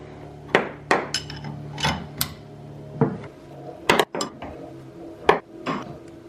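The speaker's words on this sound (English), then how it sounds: "Now I'm going to use a 19mm wrench to tighten the top nut down." A 19mm wrench on the top nut of a Fox 2.5 Race Series rear shock for a Toyota Tacoma, giving a series of sharp, close metallic clinks and knocks spaced irregularly across a quiet background.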